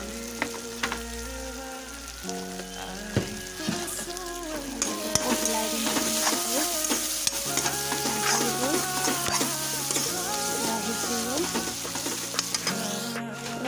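Shredded cabbage sizzles steadily in a hot pan with red chilli, turmeric and salt while a utensil stirs and scrapes at a rapid pace, with no one speaking.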